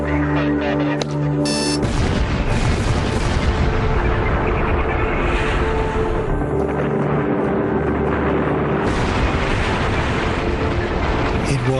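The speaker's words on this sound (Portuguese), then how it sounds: "Cargas de dinamite são colocadas em cada uma das extremidades do canal." A massive rumbling blast from dynamite charges at a dam canal roars continuously, heavy and booming like a distant detonation, with no voices over it.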